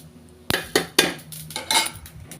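Roasted curry-leaf powder ingredients clatter into a steel mixer jar, several sharp metallic clinks and rattles spaced through a couple of seconds, close and fairly loud with no talking.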